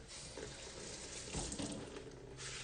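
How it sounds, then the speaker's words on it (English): A little water is poured from a large jug into a cooking mixture, giving a quiet, steady trickling stream without any speech. "I'll add a little bit of water."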